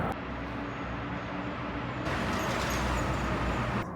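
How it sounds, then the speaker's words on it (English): A car approaching inside a road tunnel, its broad roadway roar growing louder and echoing off the walls, with no talking. "You can hear a car coming."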